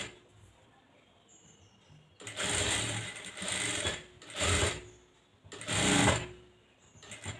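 Sewing machine stitching a one-tuck blouse starting at the shoulder, in four loud bursts of rapid stitching separated by short pauses, after a quiet start.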